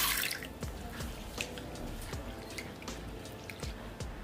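Red lentils (masoor dal) are rinsed in water in a kitchen, giving soft splashing, dripping and squishing with irregular trickles and small plops throughout, close and fairly quiet, with no talk.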